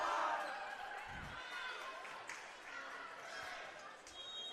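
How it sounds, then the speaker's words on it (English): A crowd at a girls' varsity volleyball game cheers and shouts in a dense, lively wash, with a ball thump early and a voice speaking briefly amid the noise. "Crowd right next to us is getting really loud and proud."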